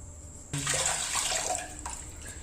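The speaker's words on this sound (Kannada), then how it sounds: "ನೀರನ್ನು ಒಂದು ಪಾತ್ರೆಯಲ್ಲಿ ಹಾಕ್ಕೊಳ್ತಾ ಇದ್ದೀನಿ" Tender coconut water pours into a vessel, a steady splashing stream that starts abruptly after a short quiet moment, lasts under two seconds, then eases off as the liquid settles. It is close and fairly quiet, with no talk.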